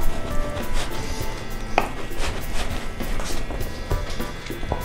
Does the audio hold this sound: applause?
no